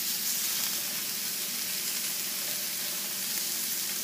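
Onions and garlic sizzle in a cast iron skillet with a steady, even crackling hiss at close range. There is no talking.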